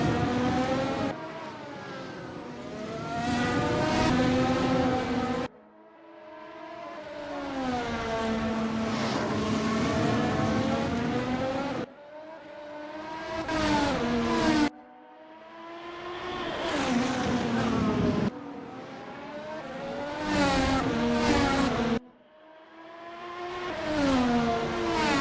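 Race cars in a racing video game at Interlagos roar past in repeated passes, their engine notes climbing through the gears and cutting off abruptly at each shift or scene change, loud and continuous.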